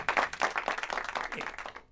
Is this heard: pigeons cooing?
no